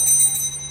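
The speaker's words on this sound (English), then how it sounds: "This is the sound of the bell." A small handbell rung during a classroom lesson on the five senses, giving a brief bright high ring that fades over under a second, alone without talk.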